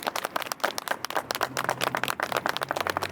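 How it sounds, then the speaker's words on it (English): Audience clapping at a community event, a brisk run of uneven claps from a modest crowd, fairly close and steady, with a faint voice underneath. "Can you give them a round of applause, please?"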